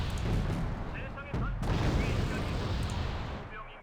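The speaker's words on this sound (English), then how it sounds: "That artillery's trying to kill that recon." Artillery fire in the Wargame: Red Dragon battlefield, a dense sustained roar of booms and blasts filling the whole clip, with a sharp burst near the middle and game voices over the din.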